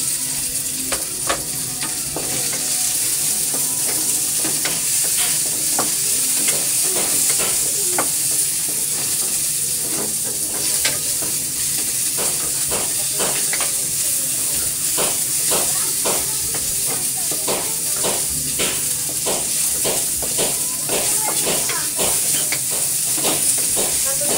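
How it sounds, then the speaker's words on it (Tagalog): Chopped onion and garlic sautéing together in a hot pan: steady sizzling hiss throughout, broken by frequent scraping and stirring strokes, close and fairly loud, with no talking. "Gisa na ako idol ng sangkap. Magaluto. Sabay-sabayin ko na tong sibuyas bawang."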